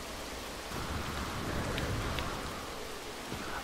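Rain falling on a planet in No Man's Sky on PS4, an even, dense hiss of rainfall with faint patters and a low rumble beneath, no talking.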